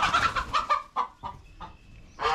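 Chickens cluck in a series of short, close bursts, then a pause before more clucking resumes near the end, with no talking.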